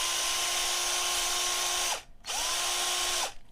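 Electric drill from a house wiring tool kit running steadily with a high, even whine, stopping briefly near two seconds, then spinning up again at a changed speed before cutting off; loud and close, with no talk.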